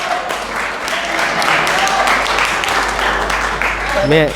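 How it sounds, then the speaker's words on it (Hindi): Applause from a school audience at a Kaun Banega Crorepati style quiz event in a college hall, dense clapping at a steady level with a voice over it, ending in a brief rising tone. "हर्ष दिवाकर आए और हॉट सीट ग्रहण करें, आए हर्ष दिवाकर, ताली बजाओ"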